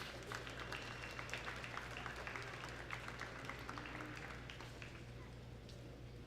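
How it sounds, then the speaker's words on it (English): An arena crowd at a provincial exhibition applauds the junior heifer exhibitors in the show ring, steady dense clapping held at an even level throughout, with some voices mixed in. "give all these juniors another round of applause"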